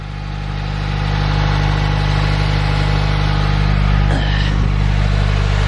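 A 2017 Subaru Forester XT engine runs steadily with a low, even drone and a buzzy harmonic hum, loud and close throughout with no talk, while smoke drifts from the back.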